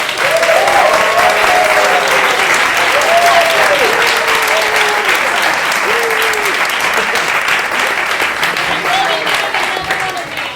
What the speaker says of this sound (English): I want to please give a huge round of applause for our panelists.